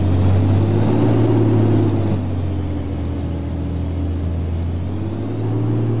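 A truck engine in Euro Truck Simulator 2 drones loudly and steadily throughout, with a deep rumble that dips slightly partway through and swells again near the end, with no talking.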